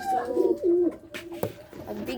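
Pigeons coo in a series of close, moderately loud calls with short gaps between them, while faint background noise continues underneath.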